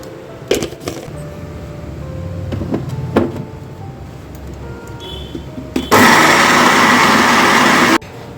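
Soaked lentils ground into a paste with a dried red chili and a little salt: after a few faint clatters and knocks, a loud motor whir bursts in close for about two seconds, then stops sharply.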